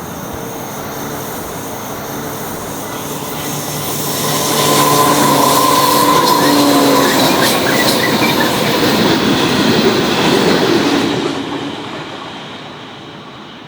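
A train rumbles past close by on the Main South line in New South Wales, Australia, with clattering wheels and metallic squeals, swelling louder mid-pass and then fading, no voices.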